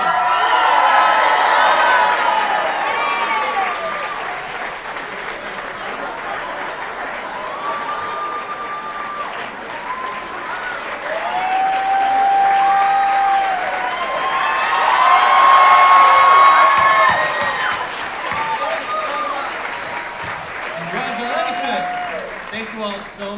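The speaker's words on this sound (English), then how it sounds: "Give them all a huge round of applause." Audience at a special needs talent showcase applauds and cheers, with sustained clapping mixed with whoops, children's shouts and excited voices that swell in the middle and again later.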